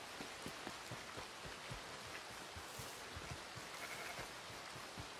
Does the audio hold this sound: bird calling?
no